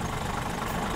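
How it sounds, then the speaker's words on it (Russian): Scania R2009 Streamline truck engine idling in Euro Truck Simulator 2, a steady low diesel rumble with a faint knocking texture, continuous and even at moderate level with no voices. "Балдежный холостой ход."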